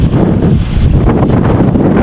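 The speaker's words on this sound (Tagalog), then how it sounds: "so lumakas bigla ang hangin" Strong sudden wind gusts at a port batter the microphone in a loud, continuous low roar with rumbling buffeting throughout, with no talking.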